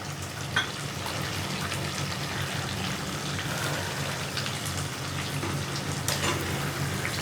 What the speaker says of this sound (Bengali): এই যে আমার বটটা হয়ে গেছে একেবারে ভাজা ভাজা।